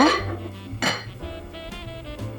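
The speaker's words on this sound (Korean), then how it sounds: "냄비에 사과를 담고 약불에 올려주세요." A pot holding apples set down on a stove over low heat, a sharp metallic clank followed by lighter ringing clinks and rattles of the pot, close and without talk.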